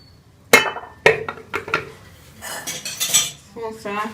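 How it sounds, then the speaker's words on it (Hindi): A spoon pressing blended falsa paste through a metal strainer, giving several sharp metallic clinks and taps followed by scraping and rubbing against the mesh, close and fairly loud. "चम्मच से करके इसका पेस्ट जो है वो मैं अलग कर लूँगी"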